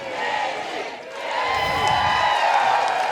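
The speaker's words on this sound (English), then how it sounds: "As the crowd yells Kaylee, she comes out and takes her curtain call" Softball crowd at an Oklahoma regional game in Norman, cheering and yelling a player's name in a loud, sustained roar that rises and holds to the end.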